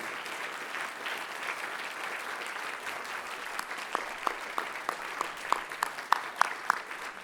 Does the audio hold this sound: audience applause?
yes